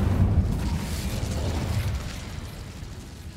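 An Incendio fire spell cast in Hogwarts Legacy bursts with a deep, close whoosh and rumble that fades out over a few seconds, heard alone.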